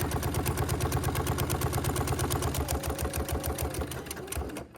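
A sewing machine back-stitching the flap of a leather cash wallet runs in a fast, steady mechanical rattle, close and loud, slowing near the end before stopping.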